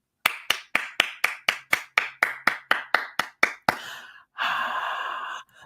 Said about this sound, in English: Mass pandemonium, clapping.